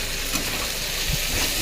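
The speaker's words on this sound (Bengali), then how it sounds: "একটু নেড়ে নিচ্ছি।" Flattened rice pulao with potatoes frying in a pan, a soft continuous sizzle with light scraping stirs, close by.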